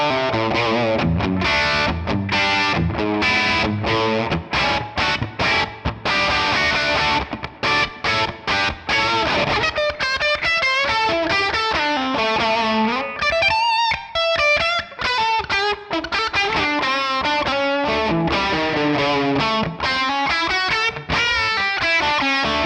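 A distorted electric guitar through a 1967 Sound City One amp plays a fast, sustained solo line, notes ringing out into a roomy chamber reverb, loud and continuous.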